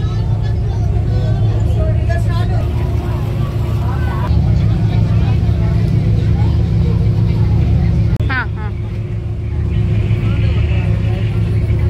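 Boat engine droning steadily throughout a boat journey to caves, a loud low constant hum with people chatting over it.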